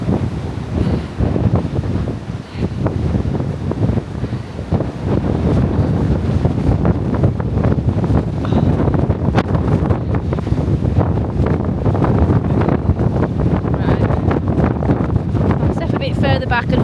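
Waves surge and crash against a wall amid heavy wind rumble buffeting the microphone, a continuous loud roar of surf and gusts outdoors.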